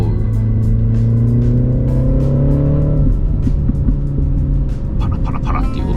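Sporty exhaust note of a new MINI Countryman John Cooper Works in go-kart mode, crackling and burbling through the rear speakers under steady engine drone, with harmonic pitch sweeping up then settling; a person speaks over it.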